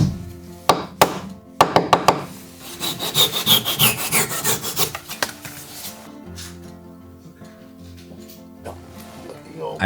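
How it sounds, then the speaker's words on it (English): A hand saw rasps through wood while a tongue and dado are cut for a shiki beam in traditional Japanese carpentry, close scratchy strokes in bursts, first quick and choppy and then smoother and longer, fading to quiet handling. "I cut a tongue on one side and a dado on the other"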